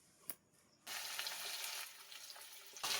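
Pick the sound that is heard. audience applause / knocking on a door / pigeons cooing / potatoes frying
potatoes frying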